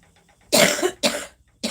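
Three sharp coughs, close and loud, the first two strong and the last one shorter, separated by brief quiet gaps.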